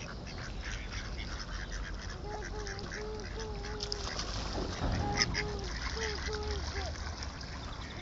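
Ducks or geese on water being fed quack and honk in short repeated calls at moderate distance, set against steady outdoor background noise, with a faint voice nearby.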